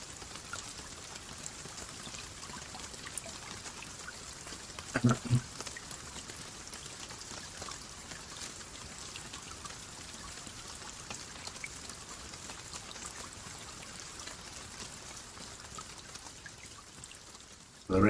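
Steady rain pattering down at sea aboard a sailing boat, a dense continuous hiss with a couple of brief louder knocks midway and near the end.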